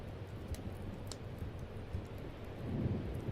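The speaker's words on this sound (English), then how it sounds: "The thunderstorm gives me anxiety." A thunderstorm in a medieval fantasy setting, with a steady wash of rain and low rumbling thunder throughout, swelling slightly louder near the end, with no voices.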